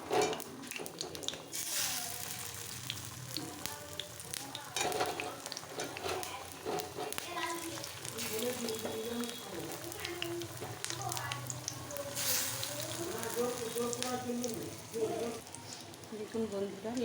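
Eggplant fritters (beguni) fry in hot oil in a wok over a lowered gas flame, giving a continuous soft sizzle and occasional clinks while someone talks over it.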